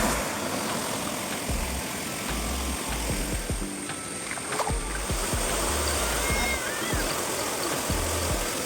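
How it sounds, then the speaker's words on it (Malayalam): A small roadside waterfall on a rainy Sunday gives off a steady, broadband rush of falling water, close and continuous, with faint low thumps and knocks underneath. "ഇതാണ് കേട്ടോ നമ്മുടെ കുഞ്ഞു വെള്ളച്ചാട്ടം"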